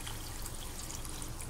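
Water is poured steadily into a pot of meat and masala while aloo gosht cooks. It makes a continuous, even splashing hiss with no talking.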